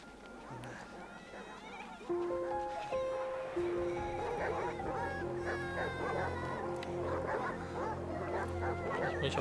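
Dogs or wolves barking in the World War I game Valiant Hearts, sharp repeated calls mixed with whinny-like cries over a steady tonal music bed.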